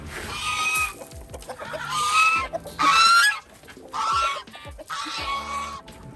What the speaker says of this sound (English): see if we can get the goose to be quiet